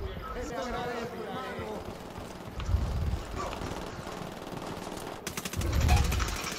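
Automatic gunfire in Tom Clancy's Ghost Recon Wildlands, bursts of shots rattling under ongoing talk, with a heavier burst near the start and another louder one toward the end.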